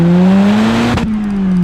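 Turbocharged Cosworth estate engine, around 400 bhp, with full stainless-steel exhaust, revving loudly and close with a sustained droning tone that dips briefly in a fluttering break before resuming.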